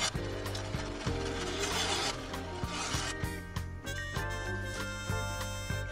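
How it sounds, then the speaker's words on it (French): A scroll saw runs steadily with a mechanical whir and repeated rhythmic clicks as it cuts wood for a model RC biplane, close up and fairly loud, no talking. "Un petit tour sur la scie à chantourner."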